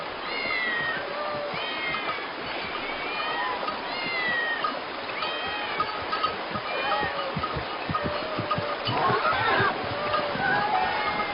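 Many cats meowing together, overlapping high-pitched calls repeating throughout at steady loudness, with a continuous wash of background noise and faint voices mixed in.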